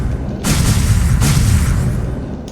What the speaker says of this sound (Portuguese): Go ahead and drop some bombs